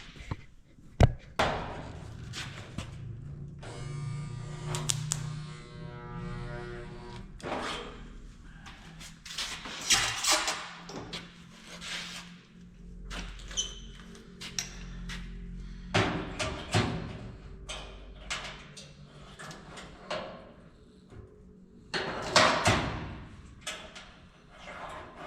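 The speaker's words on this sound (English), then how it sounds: "Then you can put a slide hammer on it, tap out the dent." A slide hammer pulls a dent from a 1973 El Camino fender strapped to a table, giving irregular sharp metallic knocks and thuds with short ringing tails, spaced by pauses.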